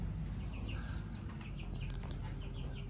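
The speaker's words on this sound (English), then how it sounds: "Got the chickens in the chicken coop." Chicks clucking and peeping softly inside a chicken coop, faint scattered calls over a steady low rumbling background, with no voices.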